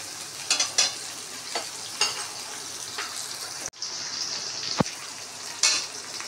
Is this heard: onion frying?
yes